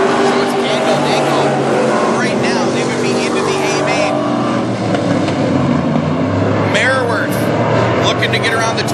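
WISSOTA Midwest Modified race cars roar around the dirt oval at North Central Speedway, engines droning loud and continuous as cars pass, with an announcer talking over the racing.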